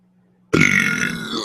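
A single loud, close burp erupts after a moment of near silence, a long rasping belch that trails off over about a second.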